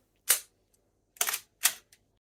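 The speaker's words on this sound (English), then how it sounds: "The shutter flapped open, then closed again" A film camera's shutter clicks three times, crisp and close, with one lone click and then two more in quick succession, the film wound between shots.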